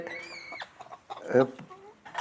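A broody spotted hen sits in a nesting box inside a coop, giving a few close, throaty clucks and murmurs in short irregular bursts, with one louder squawk near the middle.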